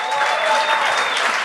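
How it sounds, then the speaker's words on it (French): A comedy show audience claps and cheers together, a brief, dense burst of applause close by. "Applaudissements pour l'humour"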